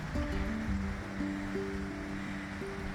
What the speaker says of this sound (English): Wonderful sounds of that running river down there.